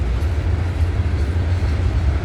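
A CN freight train passing on the York subdivision near Snider, Milepost 23, a steady close rumble with a deep low drone and broad rolling noise, continuous throughout.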